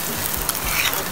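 Crushed garlic dropped into hot oil, a dense broadband sizzle filling a brief moment, close and steady with no distinct stirs.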